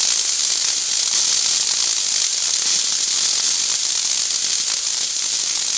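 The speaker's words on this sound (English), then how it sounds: "So it's still wet steam" A single-boiler espresso machine's steam wand, barely opened, lets out wet steam in one steady, loud, unbroken hiss with no speech.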